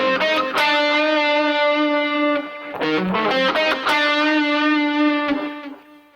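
Distorted electric guitar playing a fast diminished arpeggio lick, a continuous stream of saturated notes with a short break near the middle, loud and alone, tapering at the end.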